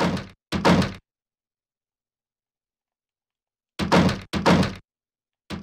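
Heavy thuds of someone banging on a locked door in a video game, in two bursts of two knocks each separated by a long silence, with a fifth knock starting at the end; loud and close, with no talk.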